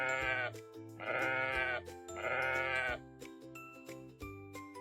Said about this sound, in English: Who says ba? It's the sheep.